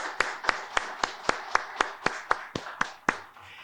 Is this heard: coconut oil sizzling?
no